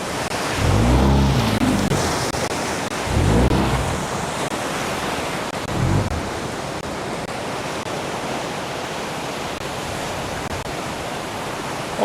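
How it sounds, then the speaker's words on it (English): A low-water whitewater rapid with big waves roars in a steady, loud broadband rush, with deep surging thumps as waves crash close by, no voices. "this is a low water rapid. These waves are really big right now"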